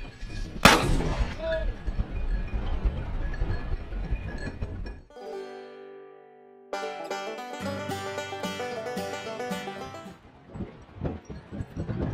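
A single sharp, loud shotgun shot goes off near the start during a Montana bird hunt with bird dogs, followed by outdoor noise and then music.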